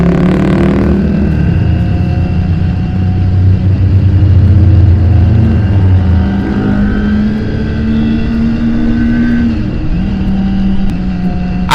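Kawasaki Ninja ZX25R four-cylinder motorcycle running continuously and loud, its engine tone rising and shifting through revs as it is ridden, with steady harmonic drone throughout.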